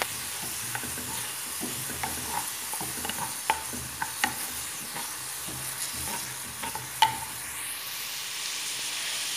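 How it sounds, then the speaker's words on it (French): Chopped onion frying in butter in a pan, a close, continuous soft sizzle broken by scattered clicks and scrapes as a utensil stirs it, with no voices. "dans une poêle, j'ai pris un oignon haché avec un morceau de beurre."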